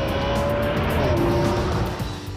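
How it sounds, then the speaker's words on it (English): A Ferrari 599 drives hard on a factory test track, its engine roaring loudly and steadily throughout with a rising tone and a hint of tire squeal, close and continuous. "this is where new 599s are tested to see whether their performance matches Ferrari's promises"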